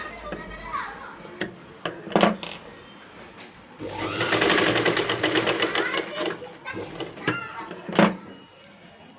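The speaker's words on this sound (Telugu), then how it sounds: "ఇలా 1/2 ఇంచ్ మార్జిన్ తోటి మనము పైపింగ్ అయితే కుట్టేసుకోవాలన్నమాట." A sewing machine stitches piping onto a blouse lining, a sustained rapid mechanical whir in the middle with shorter bursts and clicks around it, while someone talks over it.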